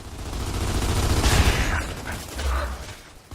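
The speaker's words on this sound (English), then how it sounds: "So I'm just throwing out some cover fire here" Rapid bursts of automatic gunfire laying down cover fire in Gears of War 2 multiplayer, dense and sustained, with low heavy thumps and mechanical clatter throughout.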